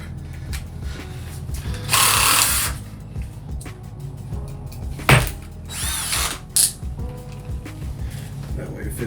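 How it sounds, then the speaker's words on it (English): A cordless screwdriver drill whirs in several short bursts while screws are driven during a gaming PC build, loud and close, with people chatting between the bursts. "give me the screwdriver drill"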